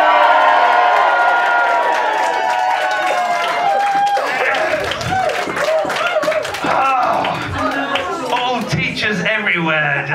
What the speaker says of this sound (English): let's just have a little bit of a celebration and a cheer